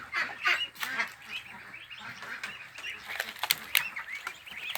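A flock of Yi Liang ducks quacking and honking continuously, a busy overlapping chorus at moderate distance, with no talking.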